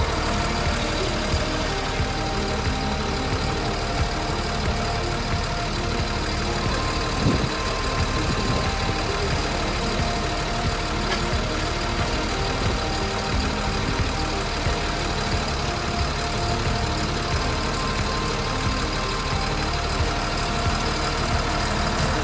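A truck-mounted Munck crane runs with its engine idling at a steady, loud, unbroken drone as it slews under remote control.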